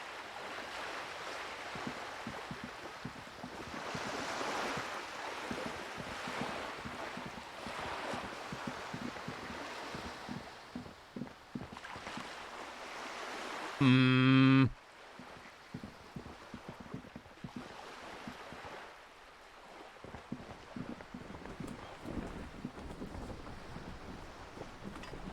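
Steady wash of video game sea waves and surf rolling in a continuous ambient bed, with a short louder tonal burst of another game sound partway through and no voices.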